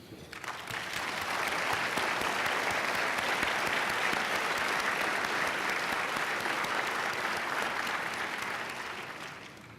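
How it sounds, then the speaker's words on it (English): A large gala audience at an awards dinner breaks into sustained applause, swelling in over the first second, holding steady and full for several seconds, then tapering slightly at the end, with no voices over it. "to give you a chance to have a proper round of applause"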